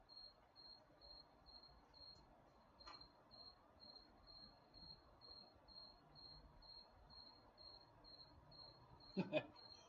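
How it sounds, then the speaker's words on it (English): A single cricket chirps steadily and close by at the back of a tent at night, a continuous high trill running through the whole stretch under faint background rustle, with a brief louder knock near the end. "Can you guys hear the cricket?"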